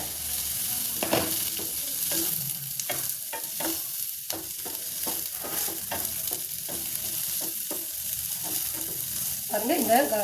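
Chopped capsicum sizzles steadily in a hot pan, with a scrape or clink of stirring every second or so, up close.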